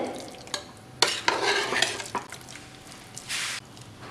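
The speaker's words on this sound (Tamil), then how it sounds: "இப்போ இந்த ரெண்டையும் நல்லா மிக்ஸ் பண்ணி நல்லா குழஞ்சிருச்சு" A spoon stirs soft, pressure-cooked rice and lentils for sweet pongal, making close, irregular scraping and squishing strokes, with a few sharp clinks against the cooker over a faint background hum.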